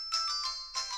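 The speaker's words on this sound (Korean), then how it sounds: "너 전화 왔어." A mobile phone ringtone for an incoming call chimes in short, bright repeated bursts, loud and close with no voices over it.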